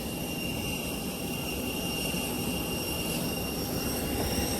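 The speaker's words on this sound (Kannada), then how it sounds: "ಆಚೆ ನೋಡ್ರಿ ಎಷ್ಟು ವಾಯ್ಸ್ ಕೇಳಿಸ್ತಾ ಇದೆ ಇಂಜಿನ್ದು. ಅದು ಇದೆಯಲ್ಲ ರೋಲ್ಸ್ ರಾಯ್ಸ್ ಇಂಜಿನ್ ಗುರು ಅದು" A Rolls-Royce aircraft jet engine runs outside, heard as a steady, continuous broadband roar with a high whine, even in loudness and with no talk.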